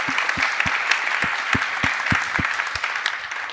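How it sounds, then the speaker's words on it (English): Audience at the Berlin Buzzwords search technology conference applauding a panel, steady dense clapping from a mid-sized room with a few louder nearby claps standing out. "Please give them a huge round of applause"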